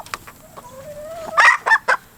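A rooster on a farm clucks close by, with soft scattered clucks and a rising squawk, then a few loud sharp squawking bursts near the end.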